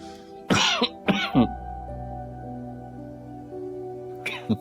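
A man clears his throat and coughs a few times up close, over a steady tonal hum, with another short cough near the end.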